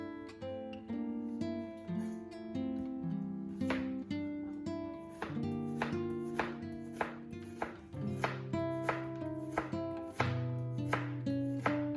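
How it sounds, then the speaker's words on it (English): Knife slicing onions on a cutting board, a steady run of crisp chops repeating close by under continuous background music. "when all of the onions are nicely sliced up"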